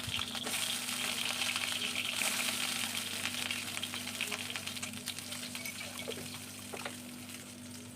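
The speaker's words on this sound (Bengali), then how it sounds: "নুন হলুদ দিয়ে ভেজে নিচ্ছি।" Boiled eggs fry in oil with salt and turmeric, making a dense, continuous sizzle with crackling spits and a low steady hum beneath, close and even throughout, with no voices.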